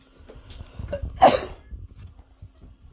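A single sharp cough bursts out near the middle, louder than the faint murmuring voices and household sounds around it.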